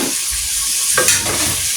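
Hog plums are stirred through melted sugar in a pan, giving a continuous close sizzle with soft scraping from the spoon and no talk.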